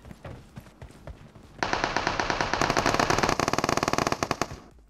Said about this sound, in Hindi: तो सामने से ना बहुत जोर की गोलियां चल रही थी